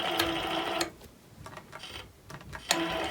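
A longarm quilting machine tying off thread runs in short stitching bursts: a longer whirring run, a few quick ticking taps with pauses between, then another sustained burst. Moderately near.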